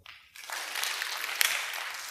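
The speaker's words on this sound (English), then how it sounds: "I'd like everyone to just clap your hands one time, whenever you feel like it" An audience claps hands one time each at scattered random moments, building into a dense, irregular patter of separate claps after a brief quiet start, with one sharper clap standing out.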